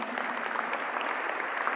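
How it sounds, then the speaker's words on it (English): At the GEO Week Ministerial Summit 2023, a conference audience gives a panelist a brief round of applause, a fairly quiet, even wash of many hands clapping together. "May we please give him a round of applause"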